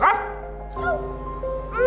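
An old dog barks twice, close and loud, with a short yelping bark at the start and another at the end over a steady low hum, as a sound effect in a bedtime story.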